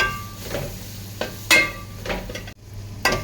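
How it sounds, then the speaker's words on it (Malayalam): Tomatoes frying in a pan for a vegetable chicken curry, stirred with a spoon: a soft steady sizzle with several scraping stirs and clinks against the pan, close and moderately loud. "അതേ നന്നായി ഇളക്കി തന്നെ കൊടുക്കണം അല്ലെങ്കിൽ കരിഞ്ഞു പോകാൻ സാധ്യതയുണ്ട്"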